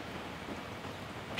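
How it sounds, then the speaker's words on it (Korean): Steady rain falls outdoors on a summer day in Jecheon, a dense even hiss of drops on surfaces filling the short stretch, moderately loud with no talking. "비가 와?"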